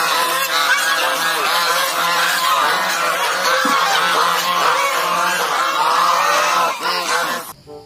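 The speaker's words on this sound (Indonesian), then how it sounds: "di sini ada hewan angsa" Geese honk loudly and continuously, the close, overlapping calls of a group filling the whole stretch before cutting off abruptly at the end.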